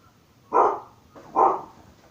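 A dog barks twice at close range, two separate loud barks spaced under a second apart, with a quiet kitchen in the background.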